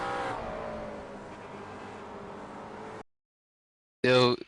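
Race cars including a McLaren running on a circuit, with a steady engine drone for about three seconds, then a brief silence before a loud, close burst of engine noise.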